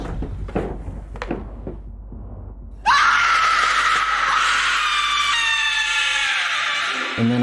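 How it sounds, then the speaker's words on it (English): A girl's loud, high scream suddenly erupts after a few seconds of sparse knocks and thuds, then holds long and piercing, ringing out with a slight fade before a final thump. "I heard this very loud scream, sound like a girl screaming."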